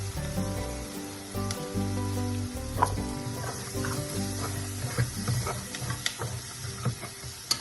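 Chopped tomatoes fry in a pan for Bengali bharta over a lowered gas flame, giving a steady close sizzle with occasional light clinks and scrapes of stirring; no one talks.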